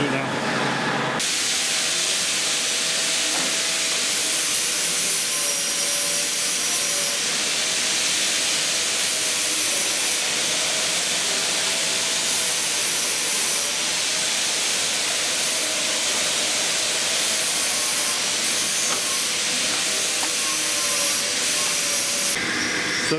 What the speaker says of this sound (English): I've drilled a hole there